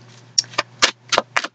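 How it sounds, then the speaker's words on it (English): Tarot cards being shuffled, close by and alone, as five or six quick riffling bursts spaced about a quarter second apart over a faint steady hum. "I've been shuffling for quite a while on your cards."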